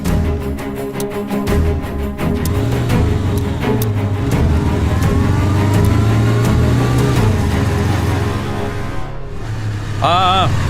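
A car engine revs and pulls away in a Tamil comedy film scene, loud and steady with rising and falling pitch under background music and voices.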